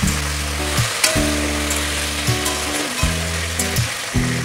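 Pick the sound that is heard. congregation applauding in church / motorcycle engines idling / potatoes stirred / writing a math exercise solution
potatoes stirred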